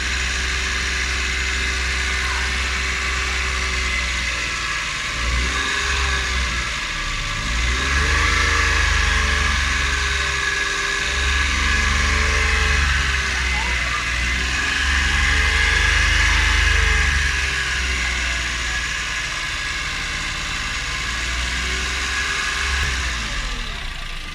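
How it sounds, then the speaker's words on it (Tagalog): Engine of a Suzuki Every Wagon DA64W held at about 2000–2500 RPM during a cooling system flush, a steady close drone that swells and eases in two gentle rises with no talk. "So i-rev lang natin kahit mga 2000 RPM or 2500 para mag-circulate yung distilled water sa loob ng makina"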